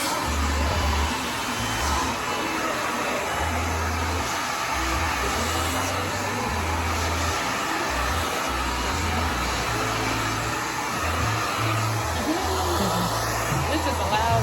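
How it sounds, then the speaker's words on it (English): A hair dryer blows continuously while kinky curly hair is straightened, a loud, steady, close whoosh lasting throughout, with a low pulsing rumble and talk underneath. "A good blow dry."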